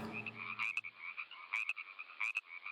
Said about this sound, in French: Pour coasser, le mâle possède un sac sous la gorge qui se gonfle pour émettre son chant ou pour alerter aussi quand il y a un danger